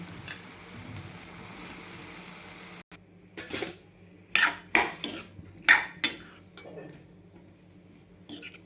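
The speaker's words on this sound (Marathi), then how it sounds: "आता आपण घालणार आहे वांग्याच्या फोडी" Eggplant pieces drop into a pan of cooked tomato, giving a run of sharp clattering and sizzling bursts near the mic after a quiet stretch, with a low steady hum underneath.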